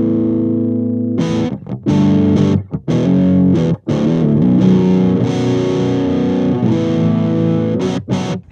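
An electric guitar plays through a Kyro Audio Dulo and Kuki amp and preamp pedal pair set with all EQ at noon. It gives a loud, crunchy, distorted Marshall-like tone of strummed chords and riffs with short breaks, and no one talks.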